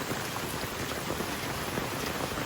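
Steady rain pours down over a village, a dense, even hiss of drops striking surfaces, close and constant with no pauses or voices.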